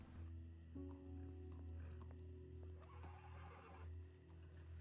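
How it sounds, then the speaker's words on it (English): A horse whinnies in a Red Dead Redemption 2 roleplay game over a steady electronic hum and mechanical clicks, the neigh moderately loud amid game-like background sounds. "Horse."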